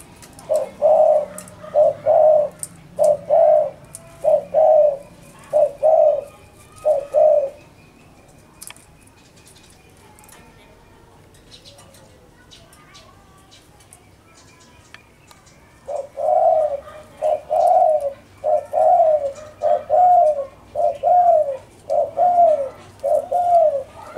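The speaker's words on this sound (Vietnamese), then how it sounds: "Vừa rồi nó bắt một con bói vào nó gù chỉ biết gù thôi." A spotted dove decoy bird coos in steady, repeated rhythmic phrases, loud and close. The calls pause for several seconds midway, then resume in the same pattern.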